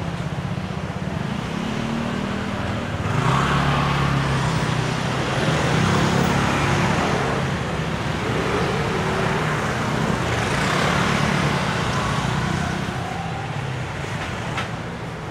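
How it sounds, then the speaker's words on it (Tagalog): Busy road in Taiwan with many vehicles passing, a continuous loud traffic roar that swells and fades as cars go by, no talk. "Dami sasakyan ngayon."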